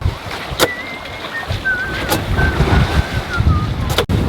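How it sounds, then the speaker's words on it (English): A sailboat runs under good wind off Sicily's north coast, its hull cutting through sea waves in a steady rushing wash. Strong wind buffets the microphone and a thin whistle hangs above the noise. "we cut through the waves with ease"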